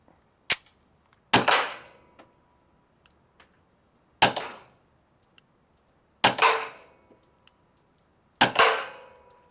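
Five sharp, muffled gunshots from a suppressed pistol fired at uneven intervals, each a quick crack with a short decaying tail, with quiet pauses between them.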